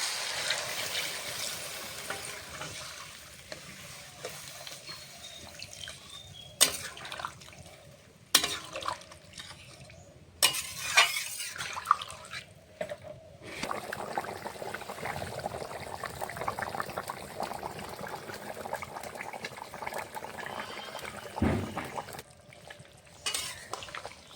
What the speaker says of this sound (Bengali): মশলার সঙ্গে মাছ টমেটো কষানো হয়ে গেছে এখন দিয়ে দেবো পরিমাণ মতন জল